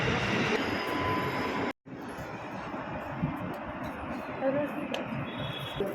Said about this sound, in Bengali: আমরা এই মুহূর্তে মেট্রো স্টেশনে এসে গেছি